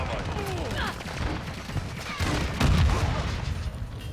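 Rapid gunfire in Modern Warfare 2 multiplayer as players shoot down an enemy helicopter, a dense, sustained barrage of shots with booms, loud and continuous throughout.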